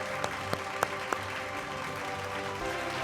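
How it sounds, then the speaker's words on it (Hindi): Audience applause at an awards night, a broad steady wash of clapping from a crowd with a few sharper claps standing out, sustained at a moderate level throughout. "जोरदार तालियों के साथ स्वागत कीजिए अनुपम खेर जी का और राजेश मित्तल जी का।"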